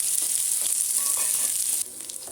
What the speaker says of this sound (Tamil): வேக வச்சு மசிச்சு உருளைக்கிழங்கு ஆட் பண்ணி கொஞ்சம் பரட்டிக்கலாங்க